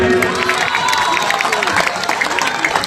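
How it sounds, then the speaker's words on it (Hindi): Audience at an outdoor Ramleela performance claps and cheers in a dense, steady wash of applause mixed with crowd noise and shouting, loud and continuous throughout. "पहले तो तालियां लगाइए सभी।"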